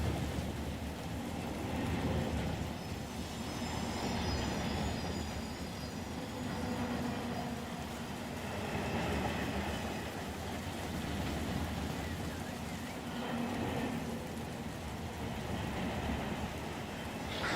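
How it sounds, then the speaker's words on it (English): A continuous dense rumble and clatter of a long train rolling past in the Run 8 train simulator game, steady and unbroken throughout, with no voices. "Pretty long train."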